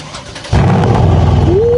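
A Mercedes C63S AMG V8 with an AMG exhaust barks into life after a brief quiet moment, then holds a loud, close, rumbling idle that begins to climb in pitch as it revs.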